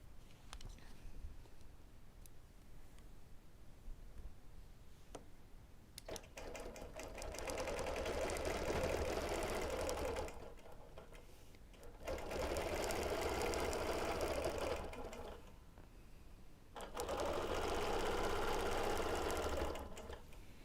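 A sewing machine stitches free-motion ruler quilting on a table runner, its steady mechanical hum running in long bursts that stop and restart, with short quiet pauses between runs.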